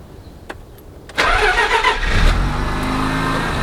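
A stock Mazda RX7 cranks briefly and fires at once, then settles into a loud, steady rotary idle with a slight rev, close by. A couple of faint clicks come before it catches.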